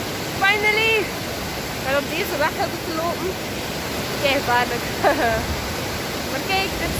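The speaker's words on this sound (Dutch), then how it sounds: "Maar kijk, dit zijn de watervallen." A waterfall roars as a steady broadband rush, close and loud, with chirpy voice-like sounds over it.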